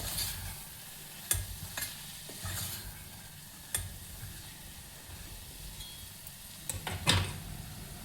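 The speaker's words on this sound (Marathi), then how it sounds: "मसाला थोडा मिक्स करायचा तेलात." Homemade Savji spice mix stirred into hot oil for a Kashi val (dudh mogra) vegetable dish: a faint, steady sizzle with a few sharp spoon scrapes and taps against the pan, loudest near the end.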